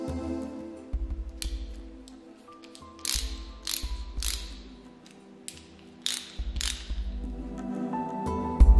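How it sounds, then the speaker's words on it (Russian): A hand ratchet from a 60-piece tool set clicks in several short bursts of rapid pawl ticks, separated by brief pauses, close and fairly loud with no one talking. "Трещотка."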